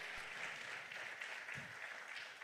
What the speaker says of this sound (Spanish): Dele aplauso a Cristo si está gozoso